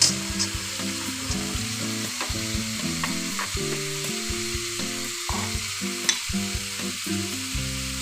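Chopped tomatoes go into a frying cauliflower and green peas curry, giving a loud, continuous sizzle with stirring scrapes and scattered clinks of a spoon in the pan.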